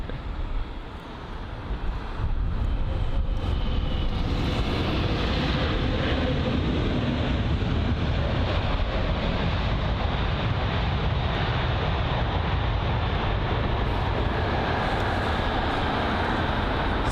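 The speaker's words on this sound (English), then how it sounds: "The arrival just then was from Toronto, a 777-200ER from obviously Toronto on its 6 hour and 23 minute long journey." A Boeing 777-200ER airliner arriving from Toronto lands at London Heathrow, its broad engine roar rising early and then holding steady and loud, mixed with wind noise.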